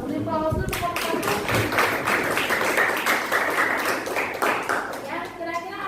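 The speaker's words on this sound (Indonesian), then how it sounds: "Beri aplaus dulu untuk kelompok 1" Classroom audience at an Islamic religious education teacher training session clapping for a presenting group, a lively burst of many hands with voices calling out over it, tapering off near the end.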